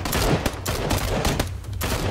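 Rapid bursts of automatic gunfire in the battle royale game PUBG, dense overlapping shots crackling close and loud with no pauses, no talk over it.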